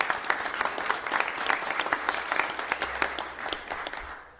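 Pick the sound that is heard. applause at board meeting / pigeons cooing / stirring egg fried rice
applause at board meeting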